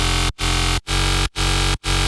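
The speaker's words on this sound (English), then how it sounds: "Let's start with the electric shaver." Electric shaver buzzing in loud, dense bursts, cut by four short regular gaps into a choppy pulsing rhythm, heavily processed and close.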